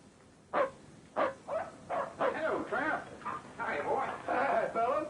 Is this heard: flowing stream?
no